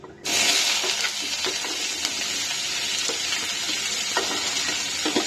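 Onion hits hot oil after mustard seeds have popped, with a sudden loud sizzle that continues as a steady crackling hiss, with occasional stirring clicks, close up.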